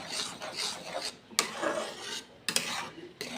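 Egg halwa with melting sugar being stirred in a pan, a spoon scraping and rubbing against the metal in irregular bursts, close and fairly quiet, with no one talking.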